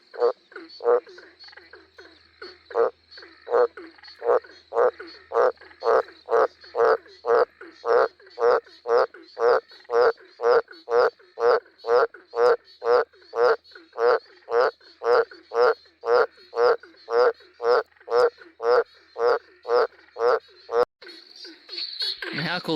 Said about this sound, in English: It's from his big bellowing call he's been throwing out across his pond.